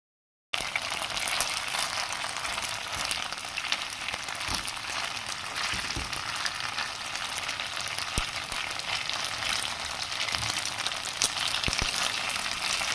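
Cauliflower pieces for chilli gobi fry in hot oil, giving a steady, dense sizzle with faint crackles and pops that runs unbroken and fairly close, with no talking.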